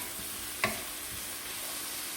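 Wood ear fungus and yuba stir-fry in a pan with a soft, steady sizzle, broken once by a single clack of a spatula against the wok, fairly quiet and close with no talking.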